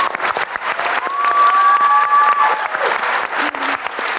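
An audience at a youth awards talk show breaks into a steady burst of applause, dense clapping throughout with a brief tonal voice or whistle rising above it midway.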